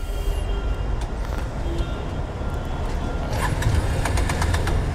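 A TVS Runner Turbo 125 scooter engine runs out of petrol, its close, loud, rough rumble sputtering and knocking unevenly.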